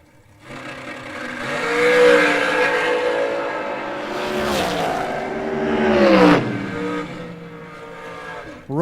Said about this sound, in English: World's fastest shorty dragster.